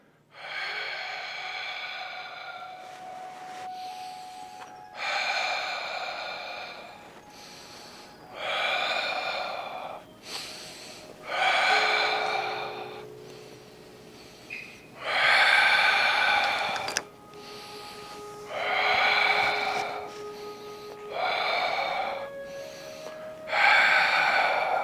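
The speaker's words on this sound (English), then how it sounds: "Here you're breathing." Forceful breaths during a martial arts striking drill, repeated in about nine sharp bursts roughly every two to three seconds, each a loud close exhale or snort with short pauses between, and no talking.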